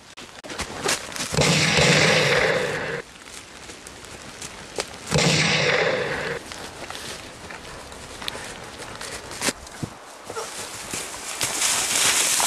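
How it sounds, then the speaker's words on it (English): Sharp gunshots from a sniper ring out in loud, broad bursts, with several isolated cracks scattered between two longer blasts of noise. No voices are heard over them. "I think someone's shooting at me."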